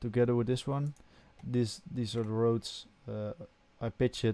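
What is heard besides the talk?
No everyday noises stand out.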